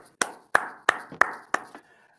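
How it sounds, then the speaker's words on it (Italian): Five or six sharp hand claps ring out at an even pace, close and dry, each followed by a short room echo. The claps come from guests in a radio studio, with no talk over them. "abbiamo gli applausi di Carlo"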